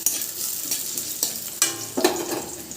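Onion, chili and peanuts frying in a pan, a soft continuous sizzle with intermittent scraping stirs and clinks of a spoon against the pan, close by with no talking.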